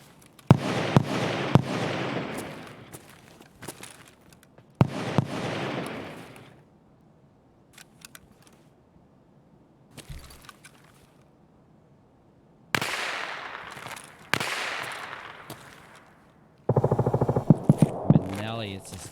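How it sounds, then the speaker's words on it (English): Grenades explode in a combat video game. Several heavy booms and crackling blasts come at irregular intervals, with quiet gaps between them and a dense final burst. Faint voices are heard between the explosions. "Grenades."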